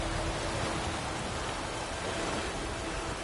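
Steady rain falls in The Witcher 3: Wild Hunt, a dense, even hiss of drops holding at the same level throughout, with no voices over it.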